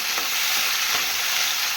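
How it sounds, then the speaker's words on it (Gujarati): Garlic and tomato sizzle steadily in a hot pan for a pasta sauce, with a continuous bright frying hiss and a few soft scraping stirs passing through, close and fairly loud, no voices. "લસણ નાખ્યા બાદ હું નાખીશ ટમેટા. હવે હું આને હલાવી લઈશ."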